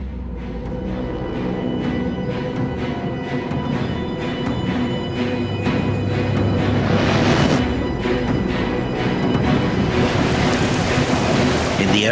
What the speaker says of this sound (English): in howling wind and driving rain